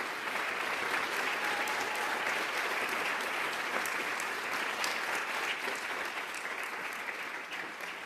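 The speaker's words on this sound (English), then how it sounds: "a big round of applause for our panellists" A large conference audience claps continuously for a panel, a dense, even wash of applause that holds steady for several seconds.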